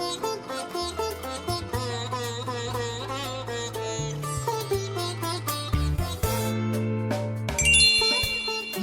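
A Micromax smartphone ringtone plays loud and clear, a bright, bell-like melodic phrase of chiming notes over a steady synthetic bass, with no talking.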